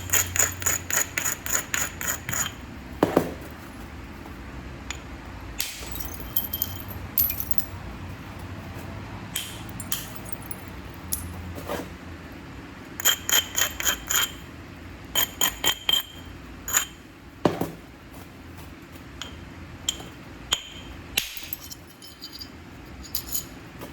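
Flint being knapped into a large Flint River Hernando point, sharp glassy clicks and ticks of strikes and flakes coming off in irregular bursts, some clustered in quick runs, close by over a quiet background.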